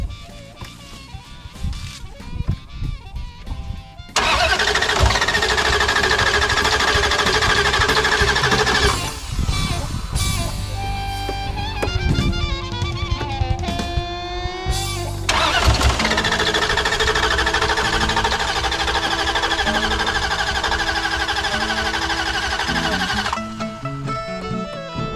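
A Chevrolet C60 truck engine that has sat unused for four or five years cranks loudly and close in long grinding bursts, stuttering and trying to catch between short pauses.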